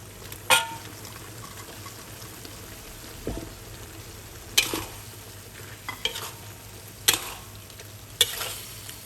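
Pork belly stir-fries with stink beans and shrimp paste in a pan, a low steady sizzle punctuated by sporadic clattering stirs and scrapes close by.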